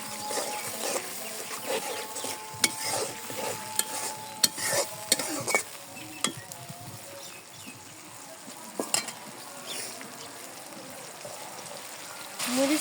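Chilies are stir-fried in a pan with a steady sizzle, broken by repeated scraping and clattering strokes of the stirring spoon, moderately close and without talk.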